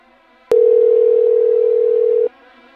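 A steady telephone dial tone holds at one pitch for nearly two seconds, starting and stopping abruptly, loud and close over a faint background hum.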